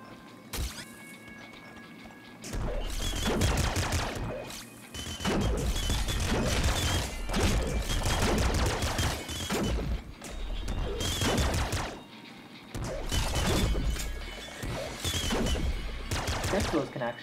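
Rapid bursts of auto shotgun fire in the video game Nuclear Throne, dense repeated blasts in clusters over a steady game soundtrack, with brief quieter gaps between bursts.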